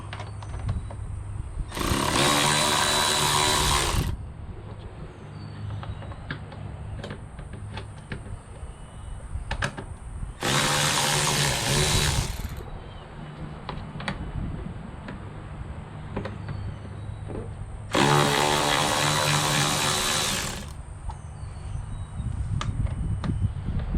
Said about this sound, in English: you need an 8mm socket to remove the bolts that hold on the air box, as well as the clamps on the intake tube